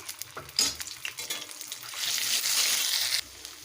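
A paste of ginger, cumin and dry chilli goes into hot oil, starting with a few clattering knocks and stirs, then swelling into a brighter, louder sizzle that cuts off sharply near the end.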